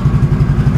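A Yamaha Mio scooter engine idles close by, a loud, steady low pulsing putter with a fast regular beat and slight clatter, briefly heard on its own.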